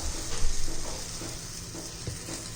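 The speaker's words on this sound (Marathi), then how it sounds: "दोन्ही बाजून छान असं चांगलं भाजून घ्यायचे" Egg bread patties frying in a pan, a soft steady sizzle with faint stirring or scraping, quiet and close with no talking.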